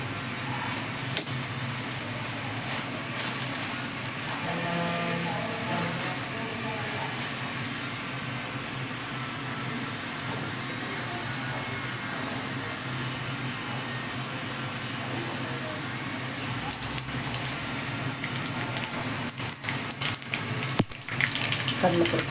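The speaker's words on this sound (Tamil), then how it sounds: "இப்போ எண்ணெய் நல்லா சூடாயிடுச்சு. இப்போ நம்ம அதில் கடுகு" Mustard seeds dropped into well-heated oil for tempering, giving a continuous sizzle with scattered crackles and pops that grow busier toward the end, fairly close and steady throughout.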